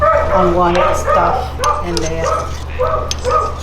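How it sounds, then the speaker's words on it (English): Dogs, a neighbor's dog and a household dog, give yipping barks and whimpers close by in a kitchen, heard under continuous talk alongside a steady background hum. "that's our neighbor's dog"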